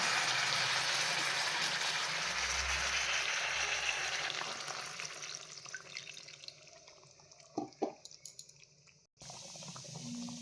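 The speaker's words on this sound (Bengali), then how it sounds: "এখন সামান্য পরিমাণ একটু জল দিয়ে দেব।" Water poured into a hot pan of simmering chicken curry with lime leaves, giving a broad hiss and sizzle that is loud at first, then fades into softer bubbling and a few clinks near the end.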